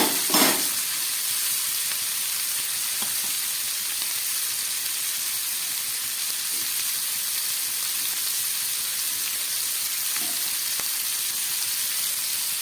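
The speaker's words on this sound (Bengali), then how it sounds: "দিয়ে দিচ্ছি কয়েকটা কাঁঠাল দিয়ে খুব ভালো করে ভেজে নিলাম" Jackfruit pieces frying in a pan for a mixed vegetable dish give a loud, continuous close hiss of hot oil, with an early clatter and a few faint stirring taps, and no speech.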